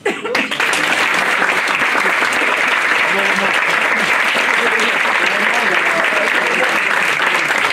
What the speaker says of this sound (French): je vais vous demander de l'applaudir